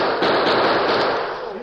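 A Colt six-shooter revolver fires in a rapid, loud burst of shots that blur into one dense crack lasting over a second, close by.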